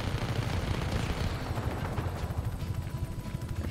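Enemy gunfire in Just Cause 3, a rapid continuous stream of shots rattling steadily at moderate loudness for the whole stretch with no talk over it.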